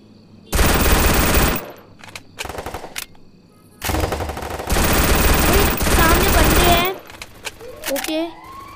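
Vector submachine gun firing in a Free Fire Clash Squad match, with two long, loud bursts of rapid automatic fire and shorter shots in between, while a voice talks underneath.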